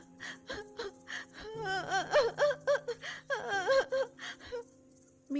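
A woman crying in distress, with gasping sobs and drawn-out wailing moans in uneven bursts, close and alone, fading into a short pause near the end.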